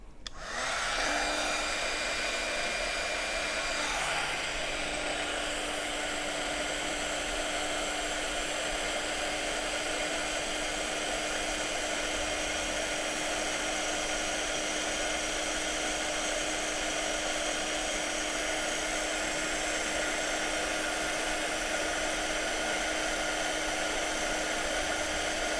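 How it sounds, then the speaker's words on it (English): A heat tool for crafting blows hot air in a constant, loud, steady whine and rush that runs unbroken from a quick start-up to the end, with no talk over it. "we're going to put the heat tool on now"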